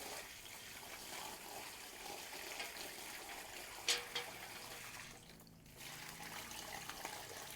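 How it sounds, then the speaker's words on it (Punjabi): Faint, steady splashing of water poured into a bucket at home for dyeing a dupatta, with a brief louder splash midway and a short lull before the flow continues. "ਆਪਾਂ ਇੱਕ ਬਾਲਟੀ 'ਚ ਪਾਣੀ ਲੈ ਲਿਆ ਇਹਦੇ ਵਿੱਚ ਜੀ ਆਪਾਂ ਪਾਣੀ ਪਾਵਾਂਗੇ"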